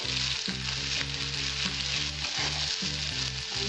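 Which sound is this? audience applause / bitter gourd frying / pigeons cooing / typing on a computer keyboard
bitter gourd frying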